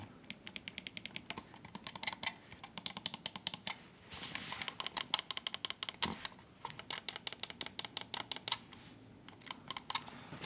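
A Rapoo VT9 Pro 8K gaming mouse clicked and scrolled in rapid bursts of crisp, close ticks, dense clattering runs broken by short pauses, with no talk.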